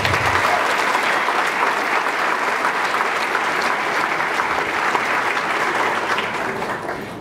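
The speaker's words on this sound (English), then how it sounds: "A round of applause for all these folks" Sustained applause from a large prom audience, a dense, steady wash of many hands clapping at once that holds at even loudness for several seconds before starting to thin slightly at the end.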